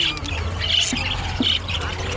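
Birds squawking at a crowded Saturday bird market, with sharp repeated squawks and chirps from caged birds over a steady murmur of background noise.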